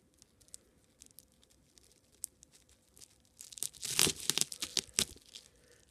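A cardboard box is cut open one-handed: faint scattered scratches first, then a louder burst of tearing and crunching cardboard near the end, close to the listener.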